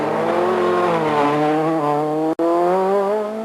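A rally kit car, a Peugeot 306 Maxi, Renault Maxi Mégane or Citroën Saxo kit car, screams hard on a test track, its loud engine holding a high, rising whine with a brief cut as it shifts gear, then pulling on strongly.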